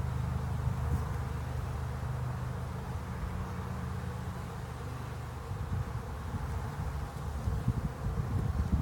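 Honey bees from a newly started colony drone in a steady, close swarm-like buzz during an outdoor hive inspection, the hum holding continuously throughout with slight swells and faint rustling, no talking.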